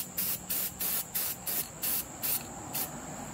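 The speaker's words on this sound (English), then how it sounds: "we come in with the black spray paint, and we're just gonna get the whole thing" Short hissing bursts of black spray paint on a steel sword repeat in a quick, even rhythm, eight or so close-up sprays with brief pauses between.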